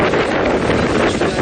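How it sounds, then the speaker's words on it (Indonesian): Strong wind sweeping over open sea off the coast with high waves, a loud, steady roar buffeting the microphone, with no voices heard. "Angin kencang disertai gelombang tinggi di perairan lepas pantai"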